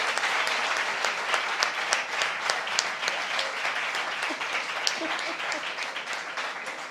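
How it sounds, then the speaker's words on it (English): Sustained applause from an audience at an Indian classical tabla and flute concert, a dense wash of many hands clapping steadily at a fairly loud level throughout, with no talking over it. "that needs a big round of applause"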